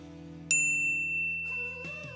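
A single bright notification bell dings once and rings out clearly, followed by a short rising chime in the background.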